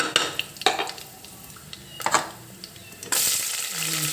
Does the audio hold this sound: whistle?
no